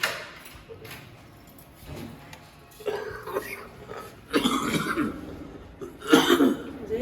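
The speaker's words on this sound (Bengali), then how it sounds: "কাশা কাশতেছে" A few rough coughs in separate bursts, growing louder toward the end, close by with faint background noise.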